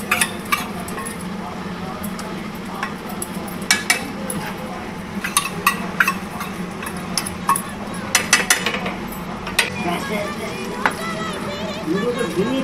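Melted ghee stirred into a pot of muri ghonto made with fish head, a spoon scraping and clinking against the metal at irregular intervals before a lid is set on top.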